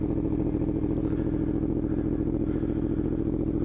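A Yamaha R1 motorcycle engine idles steadily nearby with an even, throbbing mechanical rumble and no talking.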